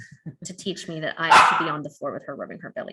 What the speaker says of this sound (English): You can hear my puppy barking at me.